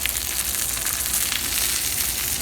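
Corn cobs frying in olive oil sizzle loudly and steadily close by, with scattered sharp pops through the hiss and no talk.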